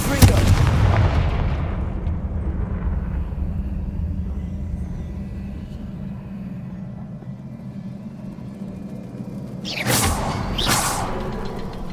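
Confringo fire spells explode in the video game Hogwarts Legacy: a heavy blast opens and fades into a long low rumble, then two sharp bursts crack out close together near the end.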